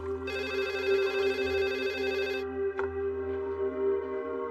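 A telephone rings with a buzzy electronic trill that starts, holds for about two seconds and cuts off. A steady low hum continues underneath, and a faint click follows. No one speaks.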